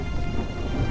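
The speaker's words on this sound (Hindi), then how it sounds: "बाहर तूफान आया हुआ है, बहुत बुरा।" A storm rages outdoors in a cartoon village scene, a brief loud wash of heavy rain with low rumbling thunder beneath it, no voices.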